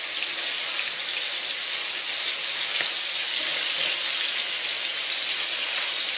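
Catfish fillets pan fry in a cast iron skillet with a steady, dense crackling sizzle, close and even throughout, with no voices.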